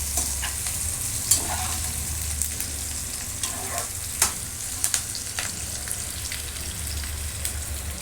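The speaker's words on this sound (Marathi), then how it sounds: "हा कांदा थोडा पिंक करून घ्यायचा आपल्याला।" Onions fry in a pan while being stirred for a vegetable dum biryani, a soft continuous sizzle broken by scattered scrapes and clinks of the spoon, close and fairly quiet with no talking.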